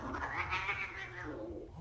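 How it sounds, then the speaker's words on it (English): Cats fight and caterwaul in a rising, wailing yowl that swells and then fades, fairly loud and alone in a Korean horror film scene. "Sounded like a cat fight."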